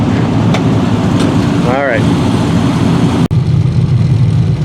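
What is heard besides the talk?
classic cars idling lined up for a tour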